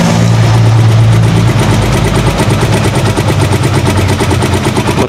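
A motor trike engine runs loud and close with a steady, rapid chugging pulse and rough low rumble throughout, with no talking over it.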